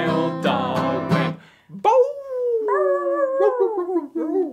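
A human voice imitates a dog's howl: a long, rising and wavering sung wail that follows a few seconds of loud musical singing, performed on a live children's sing-along show.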